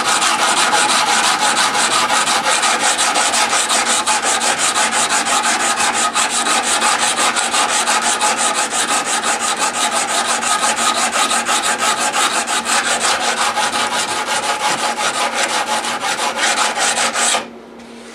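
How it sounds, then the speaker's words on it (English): Steady, loud back-and-forth scrubbing on a guitar fretboard during inlay work, a rapid rhythmic rasp that runs for about seventeen seconds without pause and then stops abruptly. "So I just keep scrubbing."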